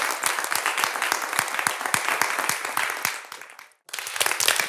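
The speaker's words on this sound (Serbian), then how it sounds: "Ja veliki aplauz Oliveru" A television studio audience applauds loudly with dense, sustained clapping that drops away briefly near the end, then bursts back in just as strongly.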